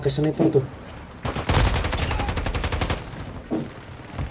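Gunfire in the video game Call of Duty Warzone: a rapid, loud burst of repeated shots lasting about a second and a half. Players' voices can be heard briefly before and after.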